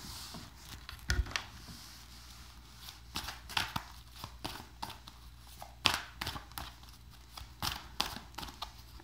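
Tarot cards shuffled in irregular bursts of sharp, papery slaps and riffles, close and fairly quiet, with brief gaps between handfuls.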